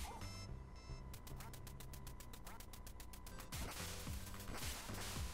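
Duck quacks from the NES game Duck Hunt, in a tinny, chiptune style, repeating rapidly against a busy, continuous backdrop of game sound effects and music.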